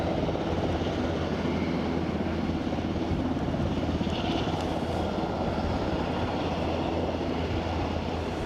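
An Aer Lingus airliner at Aberdeen airport produces a continuous, dense engine rumble and roar holding steady throughout, with no voices.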